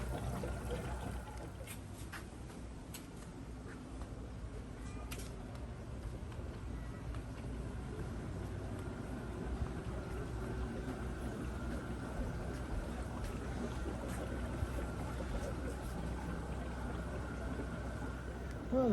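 Water circulates steadily in a Plunge cold tub, a faint, continuous trickling wash with no break.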